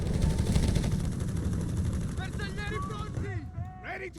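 A machine gun positioned at a lighthouse fires steady rattling bursts in a Company of Heroes 3 battle, set against loud battlefield noise, with voices speaking over the later part.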